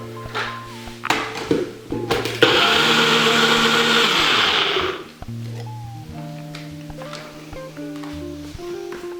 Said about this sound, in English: Just gonna put the lid on your blender, and it's about to get loud.